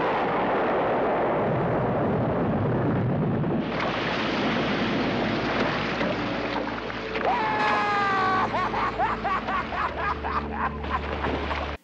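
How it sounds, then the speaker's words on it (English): Loud, rumbling blast and roar from the Jaws film scene where a shark is blown up by an exploding scuba tank, a heavy wash of noise shifting midway into churning, sustained turbulence with scattered tonal ringing. "he aims for the scuba tank and with one bullet left, he blows up the shark"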